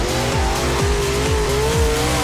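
A dirt late model race car from an online racing game circles the dirt track during qualifying, its engine droning steadily and loud with repeated revving sweeps as it powers through the corners, tires scrubbing throughout.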